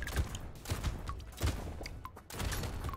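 Shotgun blasts fire in the arcade video game Brotato as a string of short, sharp bursts roughly every half second, mixed with small pickup and impact effects over a busy game soundtrack.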